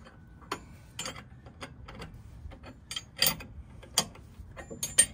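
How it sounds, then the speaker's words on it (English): A hand wrench ratchets a body mount bolt on a 2004 Range Rover HSE L322 with a 4.4 L BMW engine: quiet, irregular clicks and short metallic ticks come in bursts, close up, with no talking. "grab your wrench and do it all over again"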